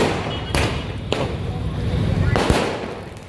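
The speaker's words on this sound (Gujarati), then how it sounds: "બધા આરતી કરે છે માતા મહારાજની આરતી કરે છે અને સામે ફૂટે છે ફટાકડા" Firecrackers burst during an aarti for the mother goddess, a few sharp cracks and thumps over a dense, noisy crowd din with voices.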